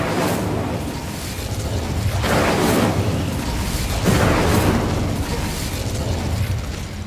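Confringo and Incendio fire spells exploding in the Hogwarts Legacy video game, with two loud bursting blasts that swell and rumble against a steady, dense background of game sound.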